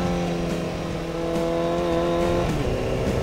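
A motorbike engine revs and speeds off in the mobile game Cookie Run: Kingdom, a loud steady droning roar with rising tonal pitch, close and continuous with no talk.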